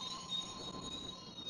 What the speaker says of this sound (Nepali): अब चाहिँ हामी ट्रेन चढ्नु गइरहेको